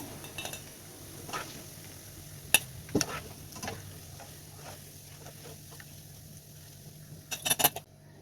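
Boondi for motichoor laddoo fries in hot oil with a soft, low sizzle. Occasional metal clinks and scrapes from a ladle against the pan come through, with a cluster of clinks near the end.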